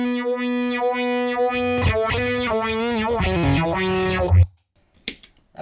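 A guitar sounds through a pedalboard chain of distortion feeding modulation pedals, sustained chords warbling and sweeping in pitch, loud and close, before cutting out into near silence with a couple of brief clicks.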